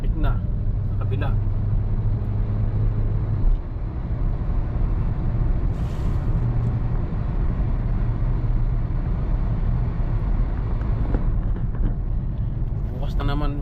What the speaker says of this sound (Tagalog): Yan, marami ng sasakyan. Traffic na sa kabila.